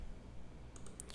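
A few quick, faint computer mouse clicks come near the end of a quiet moment, alone with no talk.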